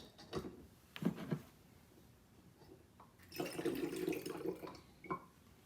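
Water pouring through a funnel into a bottle: a few quiet handling knocks come first, then a faint gurgling rush of about two seconds, with no voices.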